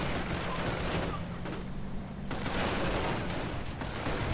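Gunfire crackles continuously at moderate volume as airborne troops fight grenadiers in a real-time strategy war game, a dense backdrop of small-arms shots with no clear single bursts.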